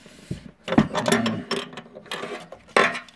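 Close metallic ratcheting and clicking as a kitchen sink faucet fitting is turned, several short bursts with brief pauses between them, like a wrench tightening under a sink.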